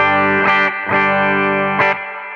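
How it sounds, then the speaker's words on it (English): Clean electric guitar notes ringing out without effects, a few picked phrases with sustained harmonics, played alone and up close. "This is my guitar without the effect."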